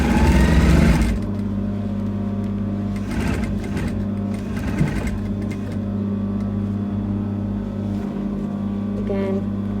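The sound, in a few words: sewing machine stitching elastic on a cape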